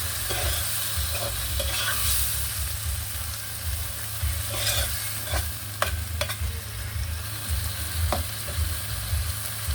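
Fermented mustard greens sauté in a pan, a continuous close sizzle broken by scraping and clinking stirs from a utensil, with no talking.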